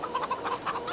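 Chickens in the farming game Farming Simulator 22 give a quick string of short, close clucks in an uneven rhythm.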